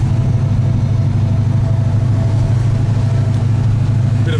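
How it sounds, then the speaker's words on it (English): A Ford GTHO Phase 3 tribute car idling with its engine running, a loud, steady, low rumble that stays even throughout with no revving, heard close up. "We've still got the engine on."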